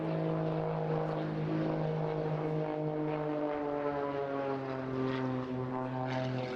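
A propeller-driven aerobatic plane flies rolls at an airshow, its steady engine drone wavering in pitch as it turns, loud and continuous with no voices.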